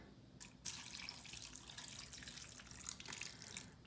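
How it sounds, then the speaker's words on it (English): Tap water runs steadily into a rapid ramen cooker being filled to the fill line for microwave ramen, a continuous splashing hiss at moderate level with a brief burst near the start. "you're going to take some water and you're going to fill the rapid ramen cooker up to the line."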